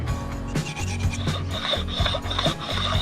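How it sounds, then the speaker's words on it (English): Sharpening stone rubbed with Inox across an engine header surface, rhythmic back-and-forth rasping strokes, close and moderately loud with no talk. "Bit of inox and sharpening stone, that'll clean that surface up beautifully"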